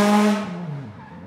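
Ott Tänak's WRC rally car at the Rally Japan 2023 shakedown, a loud engine note close by that falls away quickly as the car pulls off to put heat into its tyres.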